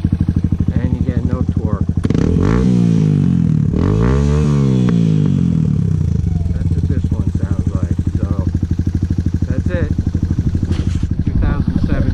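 A 2017 Suzuki DR200S dual-sport motorcycle fitted with an FMF Q4 exhaust idles with a loud, even thump, then is revved hard twice in quick succession before settling back to a steady idle, heard up close.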